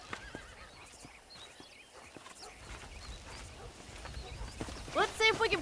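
Wild horses in the video game Red Dead Redemption, with soft hoofbeats over ambient wind followed by a loud, close neighing whinny near the end.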